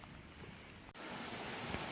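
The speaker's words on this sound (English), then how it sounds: "So little waterfalls here." Mountaineer Falls, a small mountain waterfall on the Appalachian Trail, gives a steady broadband rush of falling water that swells suddenly louder about halfway through and then holds constant, with no voices.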